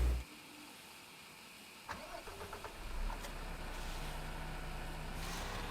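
A truck engine cranks and fires up in the Farming Simulator 15 video game, Sandy Bay map. A short stuttering crank runs into a steady, close idle rumble, heard alone after a quiet start.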